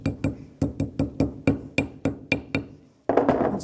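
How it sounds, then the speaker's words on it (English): A small hammer taps brake pad hardware on a 2017-2022 Honda CR-V rear brake in quick sharp metal strikes, about a dozen light clinks in a steady rhythm, close by, ending with a brief rattle. "Once it's seated, I can take a little hammer and just tap it in."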